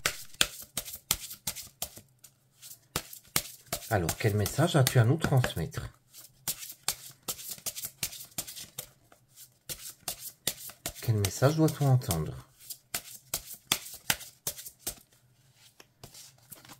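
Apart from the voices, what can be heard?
shuffling Lenormand cards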